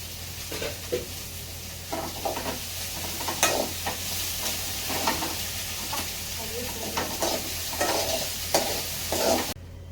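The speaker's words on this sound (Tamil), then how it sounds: "வெங்காயம் நல்லா வதங்கினதும் நம்ம கட்டி வச்சுருக்க வெண்டைக்காவை போட்டுக்கணும்" Okra and onions sautéing in a pan, with a steady sizzle and repeated scraping stirs of a spatula running through, a low hum underneath.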